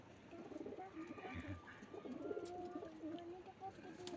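Pet pigeons coo softly in a low, rolling murmur that continues through the moment, faint and close, with a few light chirps mixed in.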